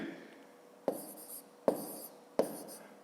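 A pen writes numbers by hand on paper during a fifth-grade maths exercise, giving three short, scratchy strokes spaced evenly apart, close and fairly quiet.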